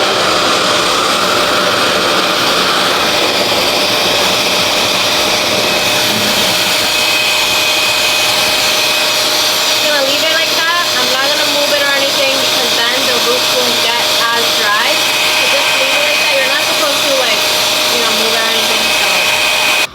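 A Revair reverse hair dryer runs on its 7th heat setting while drying curly hair, a loud continuous whooshing hum throughout, with shifting airflow tones midway as the nozzle moves through the hair.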